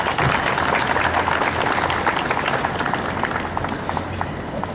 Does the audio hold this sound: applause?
yes